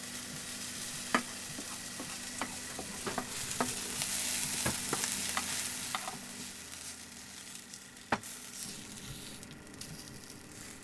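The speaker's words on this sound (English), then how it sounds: "I'm cooking up some onions and garlic" Onions and garlic frying in a pan aboard a sailboat, a steady close sizzle broken by sharp scraping stirs and clicks of a utensil against the pan, with no voices.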